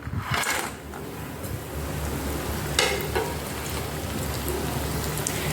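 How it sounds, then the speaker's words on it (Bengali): Lentil dumplings (dal bori) frying in hot oil over a medium gas flame, a steady dense sizzle and crackle throughout with a couple of brief louder bursts of spattering. "গ্যাসের ফ্লেমটাকে মিডিয়ামে রেখে ডালের বড়িগুলোকে ভেজে নিচ্ছি।"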